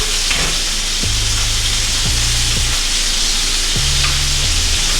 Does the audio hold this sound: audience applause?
no